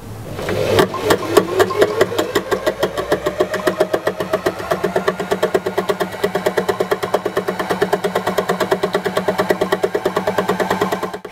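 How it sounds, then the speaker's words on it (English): A Janome FM725 embellishing machine runs at full speed, its needles punching with a fast, even mechanical clatter that holds steady and close for several seconds after starting up. "The embellishing machine should always be run at full speed or you risk breaking your needles."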